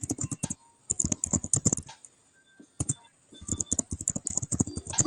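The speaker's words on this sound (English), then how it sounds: "We can hear you typing." Close keyboard typing in quick bursts of clicky keystrokes, separated by short quiet pauses.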